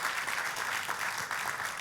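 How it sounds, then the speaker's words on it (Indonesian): Applause from a church congregation during a sermon, a dense steady wash of clapping held at an even level for a couple of seconds, with no voice on top. "kalau mau tepuk tangan yang paling meriah"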